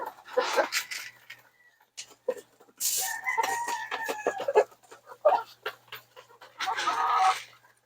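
Chickens in a chicken house give nearby clucks and squawks in short bursts, including a drawn-out crowing call from a rooster in the middle, with quiet gaps between the calls.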